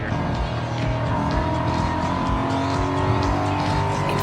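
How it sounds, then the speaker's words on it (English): Steady engine roar and squealing tyres from a car in the racing video game Forza Horizon 5, loud and continuous throughout with brief skidding textures layered over the motor. "The car sounds are different this year."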